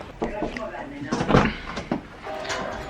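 A few sharp knocks hit a door at home, one cluster then a single rap, with people talking around them.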